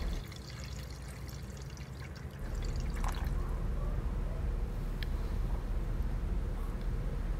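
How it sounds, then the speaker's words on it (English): Fresh homemade coconut milk pours into a pot of cooking peas, a soft, steady liquid stream heard close and fairly quiet over a low background rumble. "Okay, so I went in and add some fresh homemade coconut milk."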